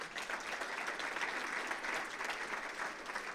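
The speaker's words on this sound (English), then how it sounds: "Another round of applause." Sustained applause from an audience at a regional State of the Region address, steady and fairly dense clapping throughout with no talking over it.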